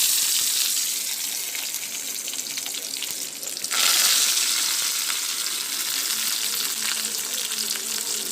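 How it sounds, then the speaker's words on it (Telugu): Thinly sliced onions hit hot oil with popping mustard seeds, a loud steady sizzle that surges sharply partway through and then keeps frying evenly close by. "ఆవాలు వేగిన తర్వాత ముందు సన్నగా తరిగి పెట్టిన ఎర్రగడ్డలు వేసుకోవాలి"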